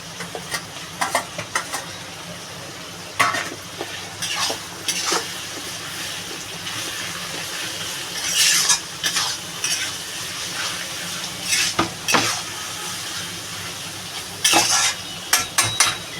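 Ginger-garlic paste frying in a pan for Bengali chicken kosha, a steady close sizzle broken by repeated scraping and stirring strokes of a spatula against the pan, with no talking.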